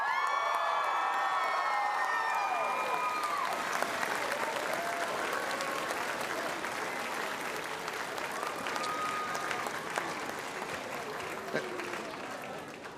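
Graduation crowd at the North Idaho College 2023 commencement applauding and cheering, with whoops and shouts over sustained dense clapping that slowly fades but continues throughout, a voice briefly heard at the start.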